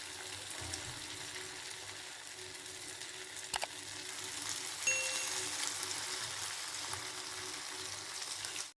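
A batch of mushrooms deep-fries in hot oil for roadside-style kaalan, a steady close sizzle and bubbling hiss that holds throughout with a couple of faint clinks.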